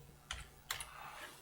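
Computer keyboard typing comes through as two or three crisp, quiet keystrokes over a low, steady room hum.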